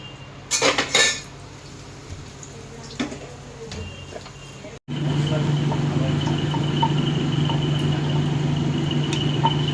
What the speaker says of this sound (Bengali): ডাল পুরিগুলো ভাজছি